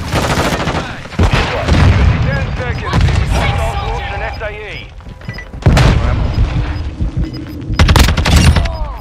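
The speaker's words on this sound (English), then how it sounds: "Throwing grenade." Grenade blast in a Modern Warfare 2 hardpoint match, a heavy boom amid continuous gunfire bursts and later loud shots, with players talking over the noisy game mix throughout.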